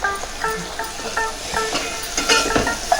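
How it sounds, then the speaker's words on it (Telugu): Washed broad beans dropped into softened tomatoes sizzling in a pan, a close frying hiss with stirring scrapes and clinks, loud and without talk. "ఇప్పుడు శుభ్రంగా కడిగి పెట్టుకున్న చిక్కుడుకాయలని వేసుకుందాం."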